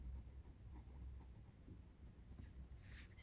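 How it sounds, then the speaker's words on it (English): A Sailor Pro Gear Slim fountain pen, inked with Sailor Manyo Fuji, scratches softly across paper while writing a name in bold. The faint, close strokes come over a low background hum, with no voices. "I'm just gonna write the name here in bold."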